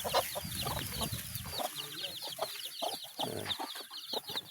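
Plymouth Rock hens and their chicks on a small farm, soft clucks mixed with steady high peeping from the chicks, close and continuous, no talk.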